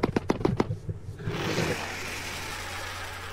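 The friendly call of a Kelenken, a terror bird from a Path of Titans mod, opens with a quick run of five or six close beak clicks, then gives way to a sustained breathy hiss.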